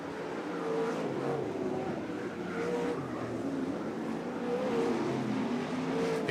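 A sprint car engine wound up hard as it races down toward the white flag with one lap to go, a sustained high-revving roar at middle distance with slight pitch shifts, steady and unbroken, with no speech.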